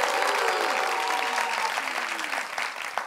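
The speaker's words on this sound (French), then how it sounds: "Applaudissements pour vous-même, chers amis du public." A studio audience applauds steadily at a French-language talk show, dense clapping sustained throughout and tapering slightly at the end.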